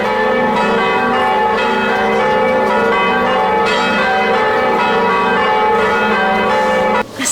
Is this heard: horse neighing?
no